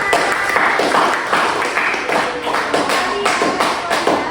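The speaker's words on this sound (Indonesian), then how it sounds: "tepuk tangan untuk kita" Clapping in a classroom, a steady patter of hands running through the whole moment with uneven bursts, close and fairly loud, no talking over it.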